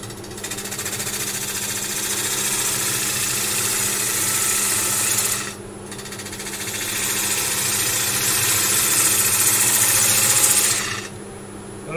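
A wood lathe spins a block of African blackwood as a gouge cuts it, making a steady loud whirring and scraping hum that stops briefly before starting again.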